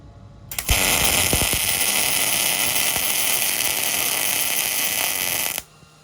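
A MIG welder set to wire speed 60 strikes an arc, then buzzes and crackles steadily and loudly for about five seconds before cutting off abruptly.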